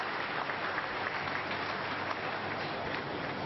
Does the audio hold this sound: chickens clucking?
no